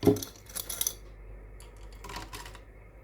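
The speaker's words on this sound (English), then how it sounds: "Add some paper clips." Small metal paper clips drop into a plastic bottle holding water, chalk powder and salt, giving a few bright clinking rattles near the start and again later, close up with quiet pauses between.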